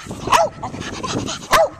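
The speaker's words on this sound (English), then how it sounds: "Sonoma, what are you barking at?" A dog barks outdoors, two sharp close barks about a second apart with softer whimpering yips and snuffles in between.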